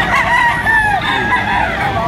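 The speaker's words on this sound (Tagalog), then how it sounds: "Tanghali, papakarami pa rin manok." Several chickens calling at once, a dense layer of clucking with a rooster's crow rising through it, loud and close with steady farmyard noise underneath.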